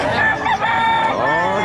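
Roosters and chickens crowing over a dense, continuous chorus of clucking fowl at a busy Bocaue pet market, loud and close with overlapping calls throughout.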